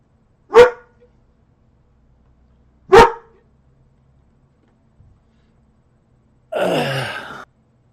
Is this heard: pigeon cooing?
no